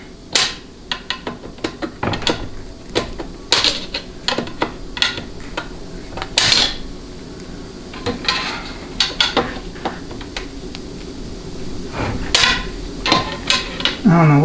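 A center support snap ring being pried out of a 4L60E transmission with a notched screwdriver, scattered sharp metallic clicks, scrapes and taps in irregular bursts, close, with occasional faint speech.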